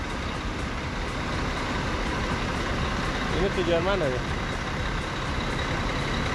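A Harapan Jaya bus bound for Blitar pulls out at Cicaheum bus terminal, its steady engine rumble running under a person talking nearby.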